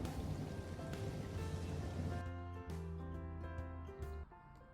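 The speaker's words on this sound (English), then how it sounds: "especially when it's raining and thundering" A rain sound effect hisses under gentle melodic music for a couple of seconds, then cuts out while the music carries on.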